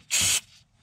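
Parts cleaner from a spray can gets one short, loud hiss of about a quarter second up close, aimed at a differential fill hole on a Yamaha Viking, then cuts off.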